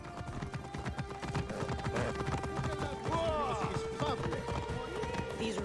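Hooves clip-clop under crowd murmur and shouting voices in Assassin's Creed Origins, a fast irregular patter mixed into busy game ambience with a brief whinny-like tonal call midway.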